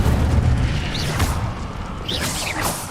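In Hogwarts Legacy, an Incendio fire spell goes off as a loud, close booming blast with whooshing bursts in the middle of a duel, and no speech over it.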